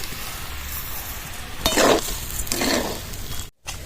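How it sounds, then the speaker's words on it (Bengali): Sago and sugar for laddu are stirred in a pan, with a few scraping strokes and a light sizzle rising over a soft background hiss. "যতক্ষণ চিনিটা না গলবে ততক্ষণ কিন্তু নাড়াচাড়া করতেই হবে"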